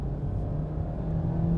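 Steady, droning engine noise from a 2019 Dacia Duster with a 1.6 litre petrol engine accelerating in second gear, a continuous loud hum from inside the cabin with no talk.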